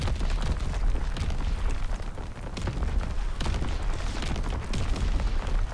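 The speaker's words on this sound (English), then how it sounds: "Incoming enemy artillery." Incoming enemy artillery in Call of Duty WW2 brings continuous heavy booms and blasts, loud and rumbling, mixed with gunfire in a chaotic battle din.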